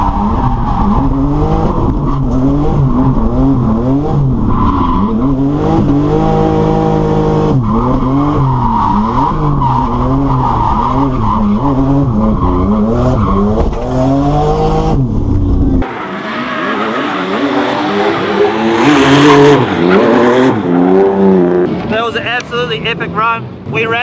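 A BMW E36 drift car with a turbocharged M52 engine screams through laps at a drift event, tires squealing in long wavering slides as the engine revs hard, with people talking loudly over the roar inside the car.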